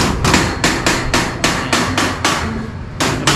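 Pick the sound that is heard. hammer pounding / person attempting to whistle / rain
hammer pounding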